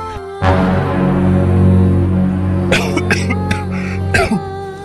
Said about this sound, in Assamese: আপুনি এনেকৈ কাহি নাথাকিবচোন